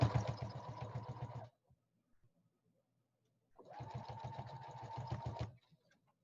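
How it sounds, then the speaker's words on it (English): A sewing machine stitches a sleeve in two steady bursts of close mechanical whirring, each roughly two seconds long and separated by a quiet pause, with no talking over them. "Sewing a sleeve, sewing a sleeve."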